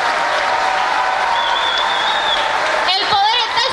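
A crowd applauds loudly and continuously at close range, with a voice speaking over the clapping near the end.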